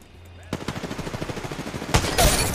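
Rapid automatic gunfire in the Apex Legends video game: a steady stream of close, evenly spaced shots for about two seconds, ending in a few louder, heavier blasts.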